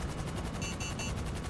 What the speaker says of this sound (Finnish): Joo, meitä ammutaan.